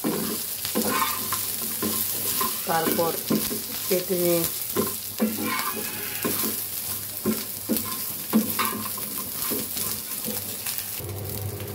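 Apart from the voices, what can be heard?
frying dried taki fish in a pan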